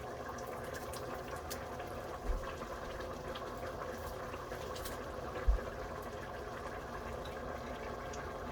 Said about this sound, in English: Turn the heat down a little bit, it's boiling.